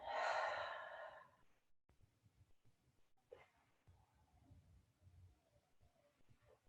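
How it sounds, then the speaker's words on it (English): A deep, audible breath in and a long, soft exhale during a gentle yoga session, close and clear, followed by quieter breathing and faint room sounds. "We take a big breath. And then exhale and soften."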